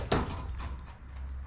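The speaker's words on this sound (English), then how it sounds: "now the drawer's open without grating" A drawer of an SGS roll cabinet tool box slides open with a short metallic knock followed by a soft, brief rolling scrape, heard close with no voices.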